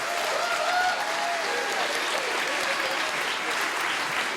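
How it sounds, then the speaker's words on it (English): An audience applauds after a show, with a thick, steady wash of crowd clapping that holds evenly throughout, faint whistle-like tones riding over it. "I think they deserve a huge round of applause"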